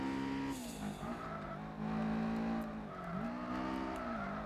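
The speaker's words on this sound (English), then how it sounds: "Definitely more like a Honda engine." A Gran Turismo 4 car engine drones steadily with harmonic pitch rising and falling as it shifts and revs, loud and close throughout.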